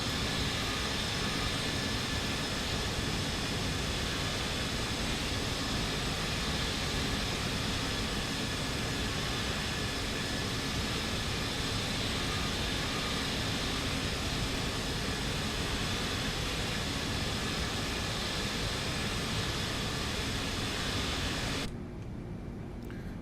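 Lockheed L-1011 TriStar jet climbing in Microsoft Flight Simulator 2024, a loud, steady, broadband engine roar that holds constant throughout, with a brief dip in the high end near the close.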